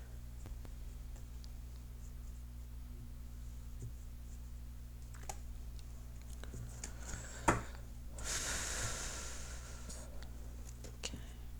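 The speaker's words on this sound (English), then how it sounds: "I'm going to cut the cards." A deck of tarot cards is cut in a quiet room, with faint taps and clicks of the cards followed by a brief, soft riffling swish over a low steady hum.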